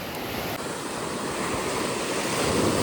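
Sea waves at Radhanagar beach, with its clear blue water and fine sand, roll in as a steady, loud surf wash, with wind buffeting the microphone and no voices.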